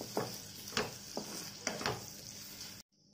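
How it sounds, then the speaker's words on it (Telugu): Potatoes frying in oil over ginger paste in a pan, a soft steady sizzle broken by several sharp scraping stirs, fairly quiet and close, ending abruptly. "ఇప్పుడు వీటిని ఆయిల్ లో కొంచెం ఫ్రై అవ్వాలి।"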